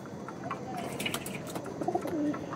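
Soft cooing from home-bred Andhra and Madrasi pigeons murmurs through a busy, noisy background, with a few faint chirps rising near the end.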